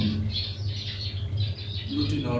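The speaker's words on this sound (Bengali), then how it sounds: "হ্যাঁ, এগুলো ককাটেল, এগুলো সব লুটিনো।" Lutino cockatiels in an aviary give repeated high chirping calls and whistles, fairly close, over a steady low hum with some faint background noise throughout.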